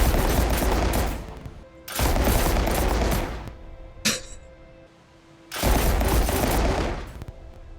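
A stack of about a dozen cannons in the game Lost Skies fires in three long, dense bursts of rapid booming shots. A single sharp crack sits between the bursts, and the whole sequence is loud and close.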